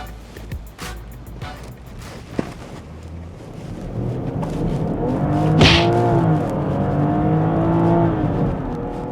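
A BMW X5 hybrid SUV pulls away hard, starting with quiet cabin noise and thumps, then a rising engine and road drone that swells steadily toward a loud sustained rush.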